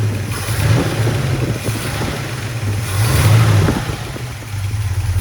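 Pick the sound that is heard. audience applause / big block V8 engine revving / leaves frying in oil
big block V8 engine revving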